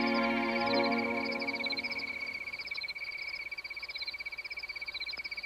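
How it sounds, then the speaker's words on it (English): Frogs croak after rain in the Grand Canyon, a dense rhythmic chorus of repeated calls that rings with echo. Loud low tones fill the opening seconds and then fade, leaving a steady pulsing chirr with no voices. "Sometimes we may share a rising exuberance with the reverberant frogs."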